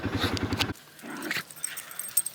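Small black dog growling outdoors in a yard, a low rumbling growl in the opening moment followed by fainter scuffling and yips, close by.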